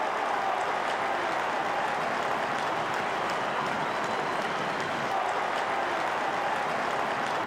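Stadium crowd at a 2006 Melbourne Demons AFL match roaring and applauding after a goal, a dense, steady wash of cheering and clapping sustained at full volume throughout.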